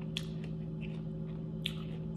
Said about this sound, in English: Talking and chewing with food in my mouth.